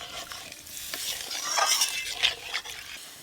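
Liquid poured into a pan of fried spice masala, bringing a sharp hiss and sizzle that swells mid-clip, with stirring scrapes close by in a home kitchen.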